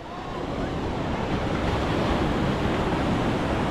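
Ocean waves wash onto a beach on Lombok, a steady broadband roar of surf with wind noise on the microphone, continuous and fairly loud with no talking.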